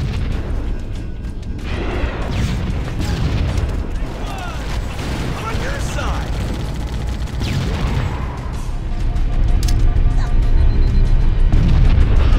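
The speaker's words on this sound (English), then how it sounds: "The grenades, rocket launcher, and even the main cannon on the Scorpion tank all have a explosive sound effect." Explosions from Halo video game weapons such as grenades, rocket launcher and Scorpion tank cannon: repeated booms and bursts layered over a dense, noisy battle din that grows louder toward the end.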